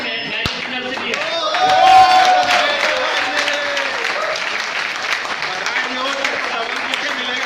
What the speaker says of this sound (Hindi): मैं एक बार आप लोगों से तालियां चाहूँगा, आज मेरी मैरिज एनिवर्सरी है।